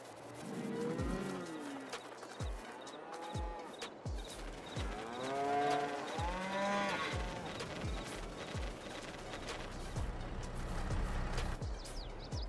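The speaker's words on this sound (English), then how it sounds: "And the end result is, well, a lot of cows." Cattle in a pasture moo repeatedly, with several drawn-out calls overlapping at moderate distance, while birds chirp faintly in the background.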